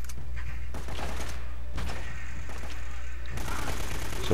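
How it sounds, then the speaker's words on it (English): Shotgun blasts ring out in Uncharted: Drake's Fortune, several sharp bursts over a constant game background, with someone talking over the action. "So pump the dudes with the shotguns."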